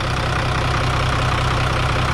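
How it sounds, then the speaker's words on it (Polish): A SAM 2500 sprayer's engine idles steadily with its cover removed, a close, even, low mechanical rumble with a regular pulsing throb and no talk over it. "Mamy tutaj silnik, osłona jest teraz zdjęta"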